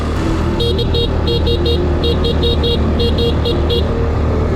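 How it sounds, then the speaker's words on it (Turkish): Repeated short motorbike and car horn toots in a quick irregular pattern over steady engine and traffic rumble in Vietnam, loud and close. "Burada kesinlikle kornaya basmanız lazım."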